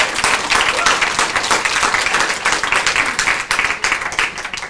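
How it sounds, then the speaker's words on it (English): Crowd at a public talk about deportation flights claps steadily, a rapid patter of many hands that holds at an even, moderately loud level for the whole stretch. "That deserves a round of applause."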